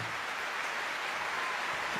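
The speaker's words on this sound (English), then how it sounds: "The crowd goes wild." Applause from a crowd in a live jam session, a steady, dense wash of clapping held for two seconds, fairly loud and continuous with no voices over it.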